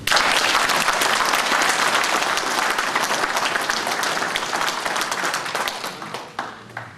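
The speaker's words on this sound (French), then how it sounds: "Je pense qu'on peut les applaudir." Audience at a French public political meeting in Hayange breaking into loud, dense applause that slowly thins and fades out toward the end.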